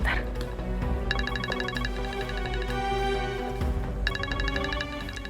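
A telephone rings in a TV drama scene, giving two bursts of rapid electronic ringtone pulses over soft background music.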